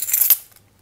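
A small bunch of house and car keys jingles and clinks briefly up close, a quick metallic rattle that settles into quiet.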